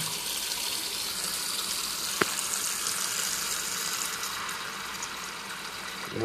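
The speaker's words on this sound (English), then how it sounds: "Then you're going to want to add some water to it." Tap water runs steadily into a bowl of ramen noodles, a continuous close splashing gush with no talk over it.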